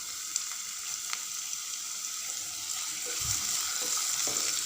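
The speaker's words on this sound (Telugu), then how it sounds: "మనం ఇలాగే 2-3 నిమిషాల పాటు టమోటాలని కలుపుకుంటూ మగ్గించుకోవాలి" Tomatoes fry and get stirred in a pan for mint tomato rice, giving a steady soft sizzle with occasional scraping strokes near the end, no voices.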